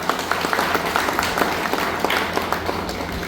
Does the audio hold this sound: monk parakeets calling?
no